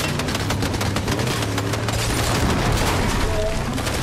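Rapid gunfire bursts from a Fortnite match crackle continuously over a dense game soundscape, with engine-like hum underneath and a faint voice in the background.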